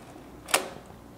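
Shutter release of a Nikon FG-20 35mm film SLR camera set to 1/15th second: a single sharp mechanical click, close and fairly loud against a quiet room, with no talking.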